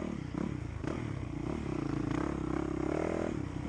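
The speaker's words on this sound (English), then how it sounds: "The engine's still going as we go back here now." A motorcycle engine, still running after being dragged out of water during a race, churns with a steady rough idle and faint clattering, a continuous mid-level drone with small pulses of revving.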